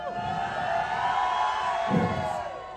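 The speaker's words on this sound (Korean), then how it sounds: "함성을 다 지르신 거 맞나요?" An outdoor crowd at a K-pop girl group stage show on a riverside floating venue cheers and shouts steadily, a loud continuous roar with a brief swell near the end.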